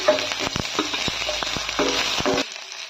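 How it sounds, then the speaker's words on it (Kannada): Green chillies sputter and sizzle in hot oil with sharp crackles and quick stirring clicks, close and lively, then the noise drops away. "ಈಗ ಮಂಚೂರಿಯನ್ಗೆ ಒಗ್ಗರಣೆ ಮಾಡ್ಕೊಳ್ಳೋದಕ್ಕೆ ಎಣ್ಣೆ ಬಿಟ್ಟಿದ್ದೀನಿ ಈಗ ಮೆಣಸಿನ್ಕಾಯನ್ನ ಸೇರಿಸ್ಕೊಳ್ತಾ ಇದ್ದೀನಿ"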